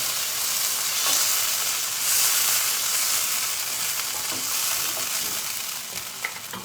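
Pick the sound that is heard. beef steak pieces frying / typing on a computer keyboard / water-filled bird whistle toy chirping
beef steak pieces frying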